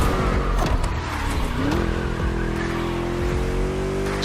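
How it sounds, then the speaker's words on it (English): A V8 car engine in The Crew Motor Fest racing game, held at a steady, loud, deep throaty drone with a rising rev near the start and continuous harmonic rumble, no talking. "Just listen to that V8"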